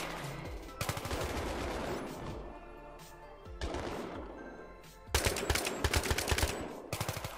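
Bursts of gunfire from Battlefield 3, rapid automatic volleys in several clusters with short gaps, loud and close, ending in a dense stretch of repeated shots.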